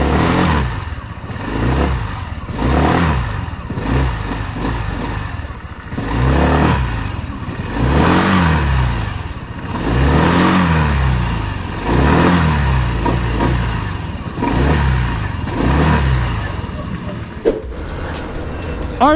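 A Skygo Lance 150 scooter engine revs up and down in repeated cycles while riding, loud and close, rising and falling steadily with wind noise throughout.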